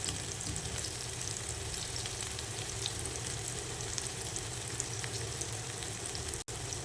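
Mutton kheema kabab frying in a pan, giving a dense, steady sizzle that fills the whole stretch at close range with faint crackles, no talking and one brief cutout near the end.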